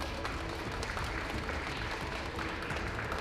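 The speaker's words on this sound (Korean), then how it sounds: "큰 박수로 자리해 보시겠습니다." An audience gives a round of applause at a Gwangju media art discussion event, a steady wash of clapping at low-moderate level.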